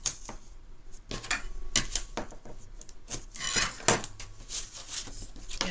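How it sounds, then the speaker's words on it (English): Crinkly scraping and rubbing of tape being applied and pressed onto plastic paper pieces, irregular bursts of friction and crackle, close up with no talking. "I'll place some tape on this side"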